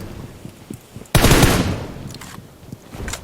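A loud burst of AK rifle fire in a video game erupts suddenly and fades over about a second, with quieter game sounds around it.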